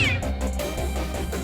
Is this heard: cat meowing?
yes